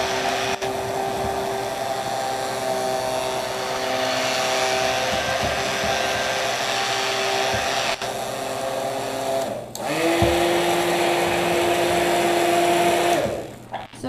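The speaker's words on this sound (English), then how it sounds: "immersion blender, and I'm just gonna mix it all up." An immersion blender whirs steadily with a constant motor hum, briefly pausing and then starting again at a slightly different pitch.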